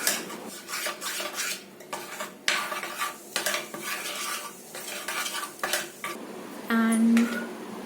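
Minced garlic and ginger paste is mixed in a bowl with a spoon that clinks and scrapes in quick bursts. The clicking and knocking is irregular but close and clear.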